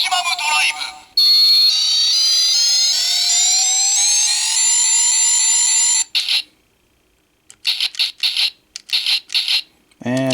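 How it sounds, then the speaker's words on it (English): A DX Double Driver henshin toy belt revving up and charging in the maximum drive slot: a loud rising electronic whine that climbs steadily, then cuts off, followed by bursts of shrill chirping electronic beeps. "It will rev up and charge in the maximum drive slot"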